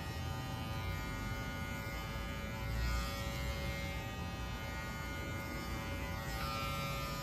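Electric hair clippers buzzing steadily up close, a constant motor whine that varies slightly as they move.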